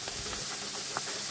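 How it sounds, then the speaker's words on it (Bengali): A second batch of pabda fish fries in hot oil, a continuous soft hissing sizzle with a few faint pops, close and unbroken by talk. "দ্বিতীয় ব্যাচের মাছগুলো ভাজা হচ্ছে।"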